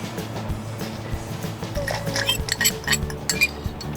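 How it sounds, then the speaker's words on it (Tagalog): Salad ingredients such as chicken breast, carrots and red onion with a cream dressing are tossed in a mixing bowl, producing steady clinks of utensils against the bowl and soft wet stirring, close and continuous. "Haluin natin siya gamit ang ating mixing bowl or mangkok."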